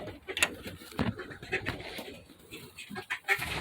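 Farm birds such as pigeons or doves coo softly in a barn or coop, with a few short calls scattered over a low, busy background, while a person murmurs nearby.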